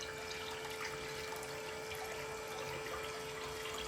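Water flowing across a Miller table during a creek gold cleanup, a steady, even rush and trickle that holds constant and fairly close with no talk over it.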